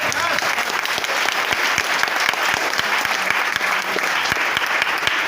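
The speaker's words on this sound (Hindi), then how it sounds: "एक बार किसानों के लिए ताली बजा सकते हैं क्या?" An audience claps steadily and loudly for farmers, a dense, sustained round of applause with distinct sharp hand claps across a large crowd.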